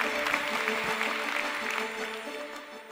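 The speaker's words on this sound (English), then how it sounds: "Please give a warm applause to Bernd Stauffer" A conference keynote audience at WinCC OA User Days in Amsterdam gives sustained applause, a broad wash of clapping over a low hum of room sound that eases slightly toward the end.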